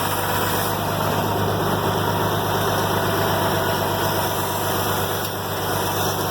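A 706 tractor with a D436 diesel engine idles steadily on its first start in months, a loud, close, even rumble with a constant low throb and no voices.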